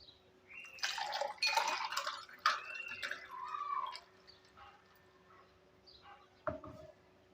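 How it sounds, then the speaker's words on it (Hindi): Mint margarita poured into a glass, heard as faint, close splashes and trickles in uneven bursts, then a final brief splash. "Now it's time to pour it in the गिलास।"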